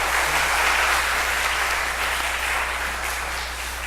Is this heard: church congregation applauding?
yes